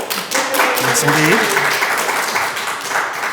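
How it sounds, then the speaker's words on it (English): Applause from a tavern audience fills the room, fairly loud and sustained, with a voice speaking briefly over the clapping. "Let's give them a round of applause"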